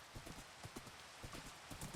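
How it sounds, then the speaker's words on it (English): Horse hooves clip-clopping in Minecraft, a quick steady trot of light, fairly faint hoofbeats repeating throughout. "Pretty fast horse too."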